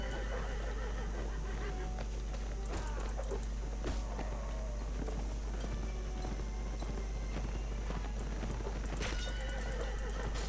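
Horses in the video game Mount & Blade: Warband whinny and neigh amid clip-clopping hooves and battle clatter, with mixed sounds over a constant low hum.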